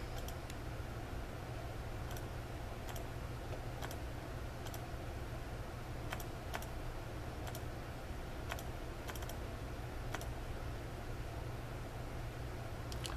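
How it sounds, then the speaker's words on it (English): Keys pressed on a graphing calculator, scattered light clicks at an irregular pace over a steady hiss of background noise, faint and without talk. "We type into the graphing calculator."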